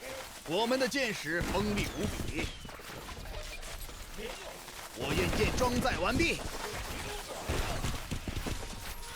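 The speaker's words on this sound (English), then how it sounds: "Hwachas, start firing there." Hwacha volleys from Stronghold: Warlords crack out in scattered bursts of rapid launches and impacts across a battlefield, rising in clustered waves beneath a talking voice.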